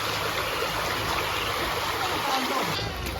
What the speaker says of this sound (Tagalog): ipapakita ko lang din pala yung aming ilog dito guys sa tabi ng aming bahay